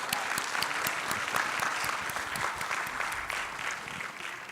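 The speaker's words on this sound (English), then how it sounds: "please give the panelists a round of applause for the appreciation" Conference audience clapping for the panelists after an artificial intelligence discussion, a steady, moderately distant applause sustained throughout and gently tapering off near the end.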